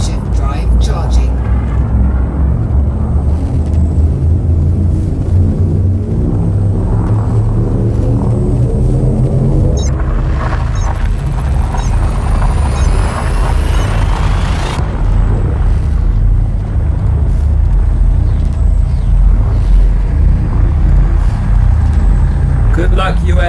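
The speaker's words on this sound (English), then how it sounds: "Charging. Frameshift drive charging." In the space game Elite Dangerous, a spacecraft's frame shift drive charges over a heavy, steady engine rumble, a whining tone climbing in pitch before cutting off sharply, with voices audible alongside.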